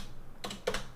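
Two quick keystrokes on a computer keyboard, soft and close, in a short quiet moment.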